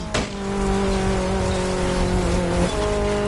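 A BMW Z sports car in The Crew Motorfest racing game drives with a steady engine drone, its sustained tones holding level for several seconds, while tire squeal rides over the top; loud and close, with no talking.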